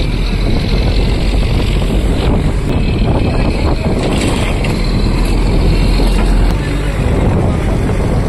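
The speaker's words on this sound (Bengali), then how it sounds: "এবার বোট ছাড়া হবে।" A boat's engine drones loud and steady as the boat sets off, heavily buffeted by wind noise, with faint voices mixed in.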